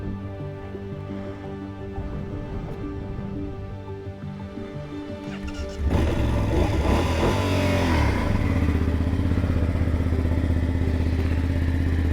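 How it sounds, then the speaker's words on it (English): A BMW F750 GS Sport motorcycle engine runs steadily, then swells louder and rougher around the midpoint as the bike pulls away and accelerates, staying close and continuous with some clatter and no talk. "I'm going to ride it back now and then you'll get to see what it sounds like"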